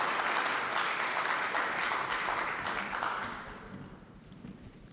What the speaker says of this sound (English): And everyone, can we give him a round of applause?